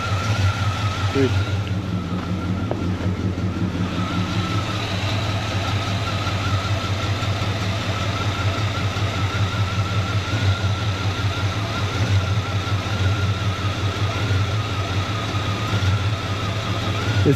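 A 1974 Chevy C20 pickup engine, long left sitting, idles loud and close with a steady low drone that swells slightly as it surges, while people talk briefly over it.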